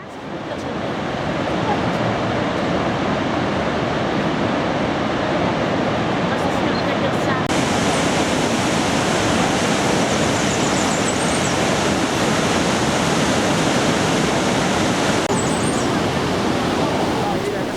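Iguaçu Falls, a massive waterfall on the Brazil–Argentina border, roars as a constant, dense wash of broadband noise with some wind buffeting, loud and unbroken throughout.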